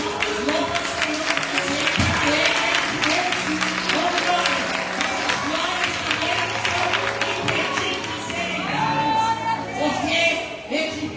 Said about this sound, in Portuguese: As palmas loucas, Senhor.